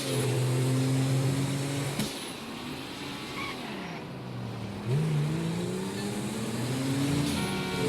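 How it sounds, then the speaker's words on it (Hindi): A car in GTA 5 races at high speed, its engine a loud, steady roar with shifting pitch as it accelerates, with a brief gear-change dip partway and no talk. "ये गाड़ी इतनी स्पीड में चल रही है कि गेम लोड होने से पहले वो वहाँ पे जा रही है।"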